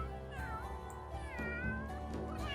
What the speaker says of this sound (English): You want to hiss at Bubble Stream?